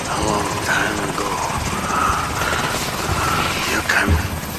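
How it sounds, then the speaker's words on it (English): A helicopter in the video game Call of Duty: Modern Warfare, its rotor chopping steadily and loudly up close throughout, with a few mechanical clunks mixed in. "Now turn off the helicopter."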